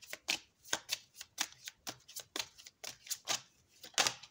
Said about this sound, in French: À force de tirer les cartes, des fois, ça fait mal aux mains à force de mélanger comme ça.